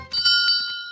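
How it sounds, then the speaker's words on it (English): A bell rings at a checkpoint in an animated children's race, several bright metallic strikes in quick succession with a clear ringing tone that lingers and fades, close and fairly loud. "Already one team has reached checkpoint 1, where they must ring the bell."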